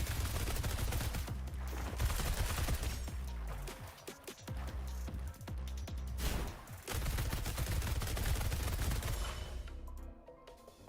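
Rapid gunfire from thermobaric bullets in the Wuthering Waves video game, a loud continuous fusillade of machine-gun-like bursts that breaks briefly twice before resuming and then trails off at the end.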